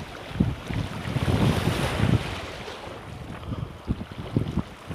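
Ocean waves wash against the Jakarta shoreline in a steady broadband roar with wind buffeting the microphone and scattered low thumps, loud and continuous throughout with no voices.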